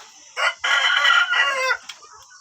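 A rooster crows loudly and close on a small village-chicken farm in a cramped yard, one drawn-out call with a short clucking burst just before it and a faint cluck after.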